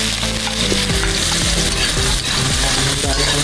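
Ginger frying in a little hot oil, cooking outdoors for chicken halang-halang: a loud, dense sizzle with spitting crackle, continuous and close, with a steady low hum underneath.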